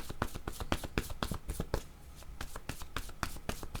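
Tarot cards are shuffled by hand, a rapid run of crisp riffling slaps and snaps close up, nearly continuous with a short lull midway.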